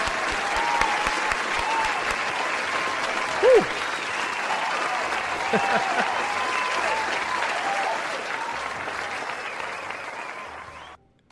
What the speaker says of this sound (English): Give him a hand clap, guys.